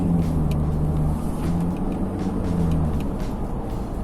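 Ford Ranger pickup with a remapped ECU idling and burbling through its exhaust, a loud steady low rumble with slight pulsing, close by and without speech.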